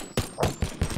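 Gunfire in the VR game Boneworks: four sharp shots fired in rapid succession, each a loud crack roughly a fifth of a second apart, with no speech.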